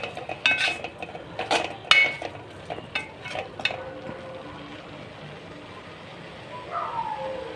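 Oyster mushroom gravy is stirred in a pan, starting with a flurry of close metallic scrapes and clanks of spoon on pan, then settling into a soft bubbling simmer with a final light scrape.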